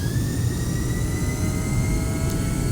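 Airliner taking off from Atlanta airport, heard as a loud, steady jet engine roar with a broad rumble and a high whine, continuous throughout.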